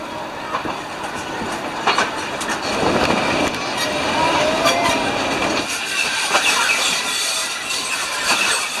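A train rolling through a station in Madagascar, with steady rumbling wheels and clickety-clack joints, occasional squeals and clatters, moderately close; faint background voices mix in beneath the rail noise.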